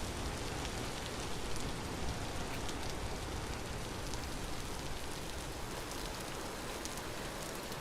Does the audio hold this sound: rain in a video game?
yes